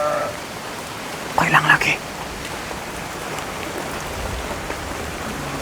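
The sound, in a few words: rain falling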